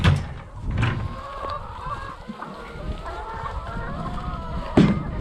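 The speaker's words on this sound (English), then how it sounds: "just like 2 hens fighting over who gets to sit on the basket of eggs" Free-range hens cluck and squabble in a flock, with overlapping honking calls and a couple of louder squawks near the start and end, over a constant low background murmur.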